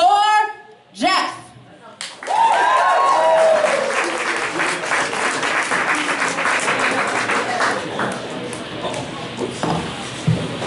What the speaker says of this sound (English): put your hands together for Jeff